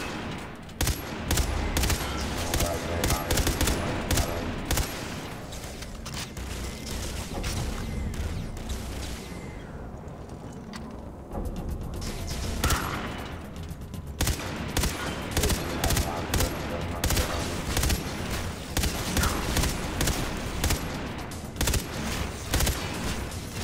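Dense, continuous gunfire from the Far Cry Blood Dragon video game, with rapid bursts and clattering mechanical effects filling the whole stretch, easing briefly midway before the volley resumes just as loudly.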